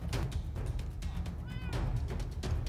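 A cat meows repeatedly in a Minecraft game, short mewing calls in an uneven rhythm, fairly close and clear over a low background hum.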